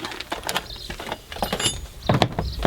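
Wrench snugging up a wheel bearing bolt on a Land Rover Defender: a run of close metallic clicks and ratcheting taps, irregular and fairly quiet, with a louder cluster of knocks near the end.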